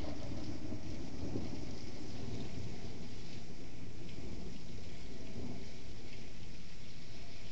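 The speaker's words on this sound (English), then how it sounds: "Rain droplets are accumulating on this window." Steady heavy rain pours during a severe thunderstorm, with a constant dense wash of drops on surfaces and rumbling thunder mixed into the continuous roar.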